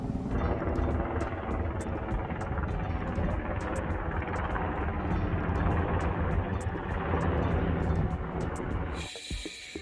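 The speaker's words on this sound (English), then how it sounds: "you hear the helicopters out here" A loud, steady helicopter rumble with rhythmic rotor chop, continuous for most of the clip before cutting off abruptly near the end.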